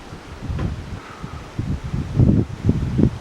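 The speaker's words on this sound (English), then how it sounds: "It's extremely strong wind." Strong wind blows at a coastal lookout near Cooktown, Queensland, buffeting the microphone in low rumbling gusts that grow stronger toward the end.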